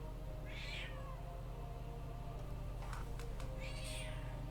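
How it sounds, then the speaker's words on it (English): A domestic cat meows twice, with short, quiet mews about three seconds apart over a low steady hum and a few faint clicks. "You meow, you come play."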